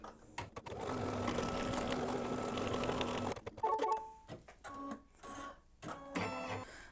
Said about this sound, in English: I'm going to stitch color stop number 3, which is going to tack down this fabric